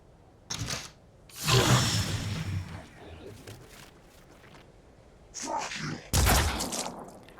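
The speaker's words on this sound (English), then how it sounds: "That is a long-distance downtown shot to the head at a target that is crouched behind cover." Sniper rifle gunshots in the turn-based strategy game Phoenix Point, fired at long range at a crouched alien behind cover: a few sharp, loud cracks with booming tails, separated by quieter game ambience.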